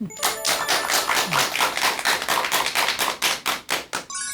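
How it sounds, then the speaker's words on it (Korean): Applause from a lecture audience, many hands clapping in a dense, steady wash that breaks into a few sharper, separate claps as it tapers off near the end. "큰 박수 부탁드립니다"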